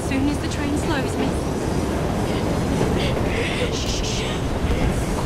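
A train rolls along steadily in the video game Assassin's Creed Syndicate, giving a constant dense rumble with faint rattling throughout, with no pauses or breaks.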